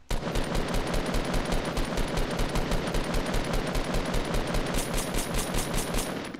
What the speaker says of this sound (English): Someone's shooting, yeah.